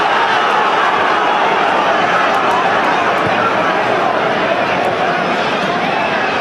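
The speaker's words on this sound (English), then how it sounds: "Crowd frustrated." A football stadium crowd during a Spanish league match between Real Zaragoza and Valencia gives off a dense, loud, steady roar of massed voices filling the whole stretch.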